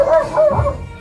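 A dog barks in a rural Philippine village, giving a couple of quick, close, loud yelping barks in under a second.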